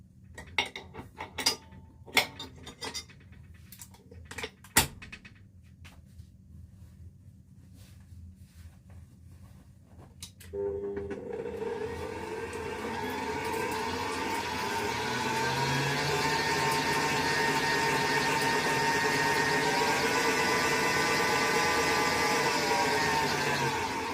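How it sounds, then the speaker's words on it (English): Butter whisked with an electric mixer for buttercream: scattered clinks and taps at first, then a steady loud whirring drone from about 11 seconds that continues to the end. "the reason why I am whisking the butter here is just so that it will add in more air"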